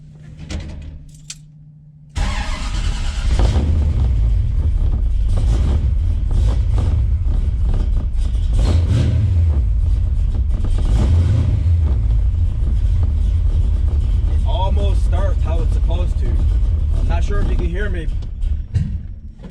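A 1979 Malibu with a 383 engine rumbles loudly while driving, a deep continuous exhaust drone that swells and eases with throttle, starting after a short quieter moment, with someone talking over it.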